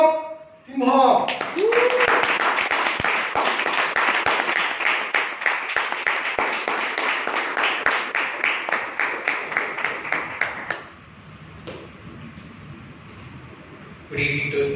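Audience at a Toastmasters club meeting breaks into a round of clapping that builds quickly and runs for about nine seconds, clear individual claps audible, then fades to quiet before a voice returns.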